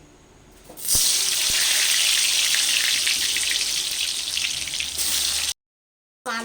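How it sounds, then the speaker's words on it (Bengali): Potatoes drop into hot mustard oil in a wok and set off a loud, sudden burst of sizzling that holds steady and close for several seconds, then cuts out abruptly before resuming briefly. "এবার ওই তেলের মধ্যে আমি আলুগুলোকে দিয়ে দিচ্ছি"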